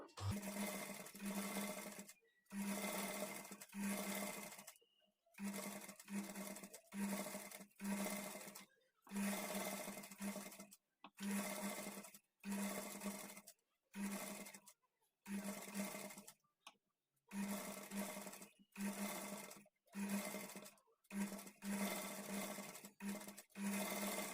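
Sewing machine stitching fabric right beside a line of piping, running in a rapid steady whir broken into repeated bursts with short pauses between them, close and alone with no talk.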